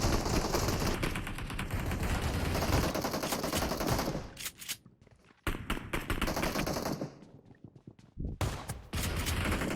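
Gunfire in PUBG Mobile during a team deathmatch in the Hangar map: fast automatic bursts of loud shots in dense clusters, broken by short silent gaps, with no talk over them.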